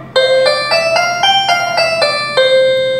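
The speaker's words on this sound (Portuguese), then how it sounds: "Esse é o som da harpa." A harp plays a short phrase of about eight plucked notes in steady succession, each ringing with a clear bright tone before the next, clean and close with nothing else heard.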